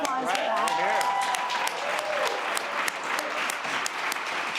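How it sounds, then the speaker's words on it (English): Audience applause at a Sweater Barnburner x Foundermade startup showcase in New York City, steady dense clapping from a crowd for the full stretch, with talk and a voice running over it. "That's so another round of applause for that."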